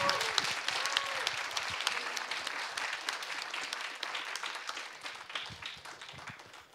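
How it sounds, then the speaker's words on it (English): Brisk applause from a small group, steady clapping that gradually thins and fades over several seconds. "give some round of applause"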